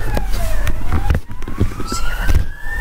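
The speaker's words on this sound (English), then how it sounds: "Sorry about the sirens" Loud wailing sirens sweep up and down close by, with traffic rumble and street noise underneath.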